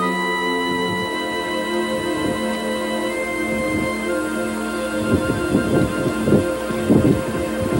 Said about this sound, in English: Very large tornado. You can hear it roar.